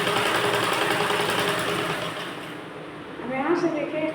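Sewing machine stitching a princess-cut blouse, a continuous close whirring hum that dips briefly before picking up again, with someone talking over it.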